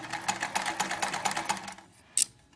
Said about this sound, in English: We're going to use 2 of them to make a point. So we're going to sew 1, going through that point on our line.